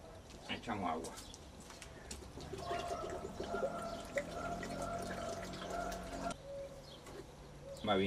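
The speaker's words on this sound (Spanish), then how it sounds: "echamos agua." Water poured into a mix of one part sand and two parts cement, a faint trickling and splashing with soft clatter, heard quietly alongside some speech.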